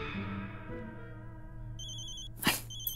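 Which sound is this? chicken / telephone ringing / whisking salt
telephone ringing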